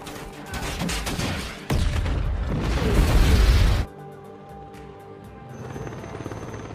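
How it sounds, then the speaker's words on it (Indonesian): A helicopter's rotor thumps and engine roar build loudly, then cut to a quieter mechanical hum with faint clicks. "helikopter penyelamat datang"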